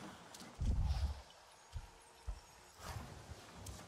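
Horse hooves in Avatar Frontiers of Pandora clip-clop faintly in a few uneven thuds, starting with a heavier cluster and then spaced single steps, quiet and unaccompanied by talk.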